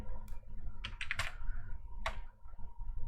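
A short burst of keystrokes on a computer keyboard entering an Angular CLI command, quick close clicks in two small clusters over a faint background hum, with no talking.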